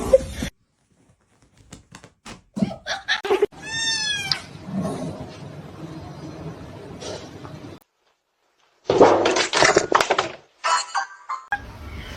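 A cat meows several times in a row, loud and close, with bumps and clatter between the calls and a few quiet gaps.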